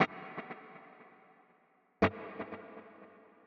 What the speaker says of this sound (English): I've added a little bit of lush reverb, a dotted eighth quarter note delay in stereo.